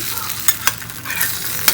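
An egg frying in a pan while being stirred, with steady close sizzling and a few sharp scraping clicks, no talk.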